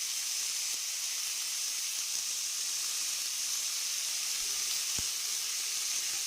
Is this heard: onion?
yes